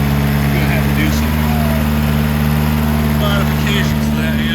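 A 1984 Toyota Tercel SR5 4WD engine idles steadily at a slightly high speed, a continuous loud mechanical drone that holds unchanged throughout.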